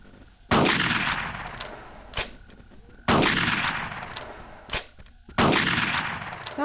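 Three loud shotgun blasts roughly two and a half seconds apart in the video game Carnivores Triplex, each a sharp boom with a long fading tail, the gaps filled by fainter metallic clicks.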